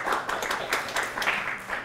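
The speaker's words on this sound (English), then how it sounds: "Clap if you think it went up." Audience applause in a lecture hall, a steady patter of many hands clapping at moderate volume for a couple of seconds, with no speech over it.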